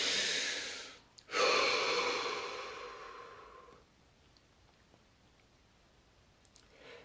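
A person takes a deep breath, a long airy exhale followed by a strong inhale that fades into quiet, close and alone.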